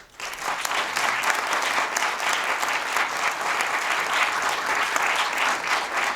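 Warm, sustained applause from an audience at a launch event, many hands clapping in an even, continuous roar that starts abruptly and holds steady throughout.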